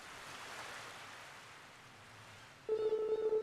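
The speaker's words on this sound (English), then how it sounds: "The sound of the waves is so peaceful." Gentle broadband wash of ocean waves rolling onto a beach shore in a video game, steady and soft, with a brighter tonal hum and chatter-like layer rising near the end.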